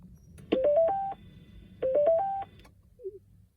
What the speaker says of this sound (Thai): ตอนนี้ได้ยินเสียงสัญญาณการรีเซ็ต นะครับ